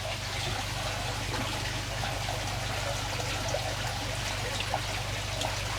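Coconut water pours from holes drilled in a coconut in a steady, close trickle and dribble, with a low constant hum underneath, no talking.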